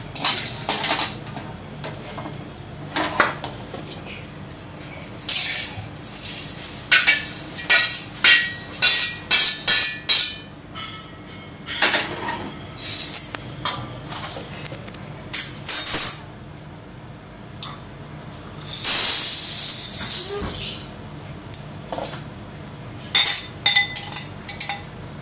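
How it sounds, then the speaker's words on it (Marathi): Chana dal dry-roasting in a pan, rapid rattling scrapes and clinks of a spoon pushing the dry lentils across the metal, loud and close in irregular bursts with brief pauses. "आणि चण्याची डाळ भाजून घेऊया."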